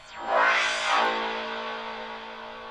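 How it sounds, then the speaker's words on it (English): Psytrance synth sound in Bitwig passed through reverb with a filter taming its high end: a swelling, sweeping burst that settles into a long, steady washed-out tail with a sustained low tone, moderately quiet and heard alone. "Just to tame this high end of the reverb."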